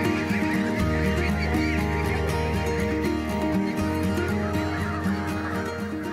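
Free-range farm geese with clean white plumage call out of doors in a dense, continuous chorus of overlapping honks and cries, loud and close throughout, with no talk.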